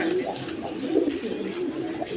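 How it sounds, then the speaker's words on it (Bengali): A pair of original Indian Bombay pigeons on a pigeon farm coo softly in low, rolling murmurs over steady background noise, with a brief sharp click partway through. "এখানে এক পেয়ার বোম্বাই কবুতর আছে, অরিজিনাল ইন্ডিয়ান বোম্বাই কবুতর"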